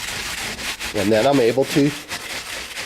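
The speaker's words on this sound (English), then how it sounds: "I use a wire brush and I go around it and shine it up with this wire brush." A wire brush scrubs the lead edge of stained glass tubing, giving close, rhythmic rasping strokes, while a voice speaks briefly over the scrubbing.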